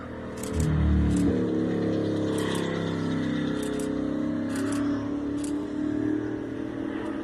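A Bugatti hypercar's quad-turbocharged W16 engine drones steadily with deep, layered harmonics, swelling briefly early on, with faint ticking clicks scattered over the sustained rumble.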